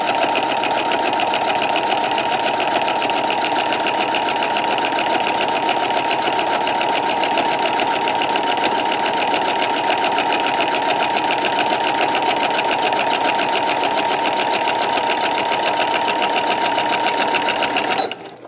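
A sewing machine fitted with a walking foot stitches a quilt seam, running steadily and loudly at a fast, even rhythm for about eighteen seconds before stopping abruptly at the end.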